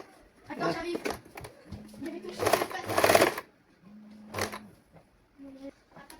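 Sewing machine stitching a prince-cut saree blouse, running in two short bursts of steady motor hum and needle clatter. Someone speaks between and over the bursts.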